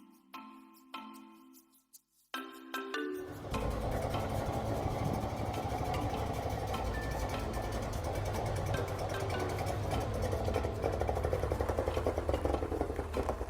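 A Saab 96 engine, from a car built between 1960 and 1980, idles steadily and fairly close after a few brief opening sounds, its low rumble continuous with a faint rattle.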